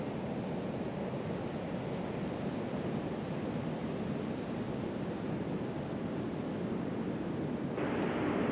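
Ocean surf on the beach at Cape Lookout on the Oregon coast in January, a constant broad roar of waves mixed with wind buffeting the microphone, steady and loud throughout with no talking.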